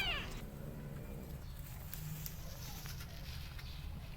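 A newborn kitten in a box cries loudly and steadily in repeated meows, close and alone without talk, searching for its mother's milk.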